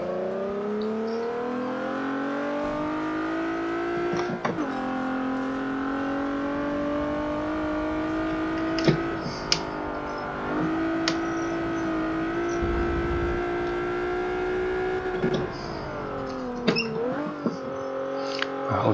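A race car in Forza 7 laps a track, its engine wailing continuously and shifting pitch through gear changes and corners, with occasional tire squeals and no talk.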